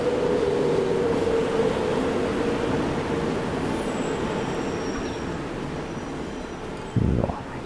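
A passenger train runs steadily in the video game Transport Fever 2, giving a continuous rolling rumble with a humming tone, then a short louder clatter near the end.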